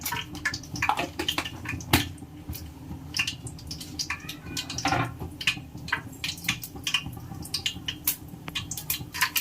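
Mustard seeds sputter in hot oil for fish curry, rapid, irregular crackling pops, scattered and uneven, over a steady low background hum, with no voices.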